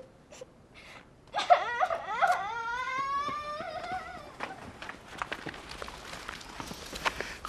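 Dogs whimpering and whining in a drawn-out, rising series of cries after a brief bark, fairly close, followed by scuffling steps and movement noise with no talk.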